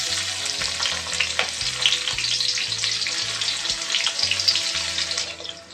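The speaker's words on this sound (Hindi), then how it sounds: "अब हम इसमें अपना प्याज डाल देंगे स्लाइस किया हुआ" Sliced onion hits hot oil already spiced with cloves, black peppercorns and cardamom, frying with a steady, close, broad sizzle and crackle, with a few soft stirring knocks underneath, and no voices.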